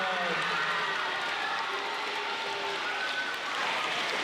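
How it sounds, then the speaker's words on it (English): Audience applause at a school awards ceremony at Grundy School: steady, dense clapping from a crowd in a hall, sustained and fairly even in loudness throughout. "Give him a big round of applause."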